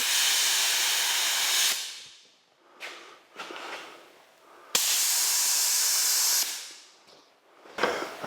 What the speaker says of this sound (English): we'll blow this hose out so we don't have any debris left in it